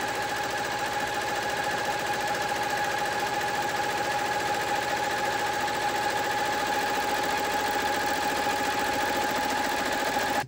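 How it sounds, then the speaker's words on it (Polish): A Barudan BEKT-S1501-CBIII embroidery machine stitching patches runs loud and steady, a dense mechanical whir with a constant whine and rapid needle chatter, unbroken throughout and with no voice. "Teraz nam tutaj na szybkę maszyna dokończy."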